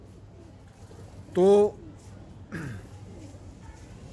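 A brief, loud burst of Madrasi pigeon cooing rises over steady background noise, followed by someone speaking.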